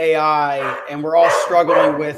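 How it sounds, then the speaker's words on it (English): A dog barks and yips in the background in short bursts, partly overlapping someone speaking close up in a talk on product management. "That's my dog in the background."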